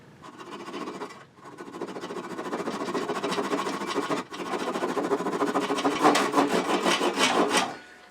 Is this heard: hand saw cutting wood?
yes